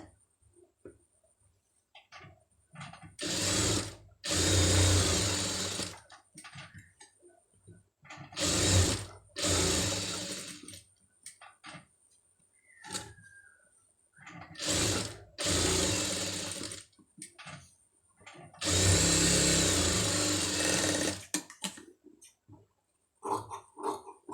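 A sewing machine stitching a saree-cloth sleeve runs in about six separate bursts of rapid mechanical whirring and clacking, with near-silent pauses between runs.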